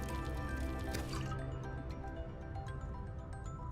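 Water being crafted in the Subnautica video game: wet squishing, dripping and liquid-filling sounds, steady and fairly loud, over a dense in-game background that continues throughout.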